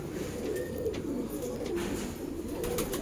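A female pigeon and others in a pigeon loft in Allahabad give soft, low, rolling coos that are faint and continuous over a muffled background, with no talking.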